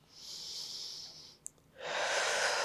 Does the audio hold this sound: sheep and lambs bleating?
no